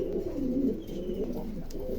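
Pigeons on a pigeon farm in Pabna coo continuously in a dense, low, overlapping chorus that fills the whole moment at moderate loudness, with no voices.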